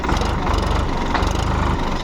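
A 50 hp farm tractor engine running loud and close, a steady low throbbing rumble with a regular pulsing beat and no talking.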